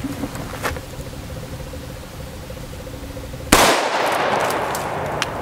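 A single sharp 5.56 rifle shot strikes a steel armor plate frozen to extreme cold, a loud sudden crack followed by a sustained rush of noise after a quiet stretch with faint background sounds.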